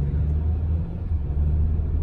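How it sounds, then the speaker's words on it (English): A 2018 Hyundai Elantra SEL engine rumbles low and steady under light throttle, a continuous deep drone heard from inside the car with no voices. "Now, if I get on the gas a little bit here,"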